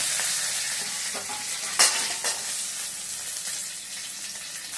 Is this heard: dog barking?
no